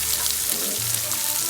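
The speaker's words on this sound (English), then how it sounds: "Don't you just love that sizzling sound?" Chopped carrots and celery sizzle in a pan over medium heat while making lasagna verde, a close, steady crackling fry with small pops and faint stirring, no talking.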